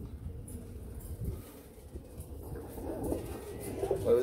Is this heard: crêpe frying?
no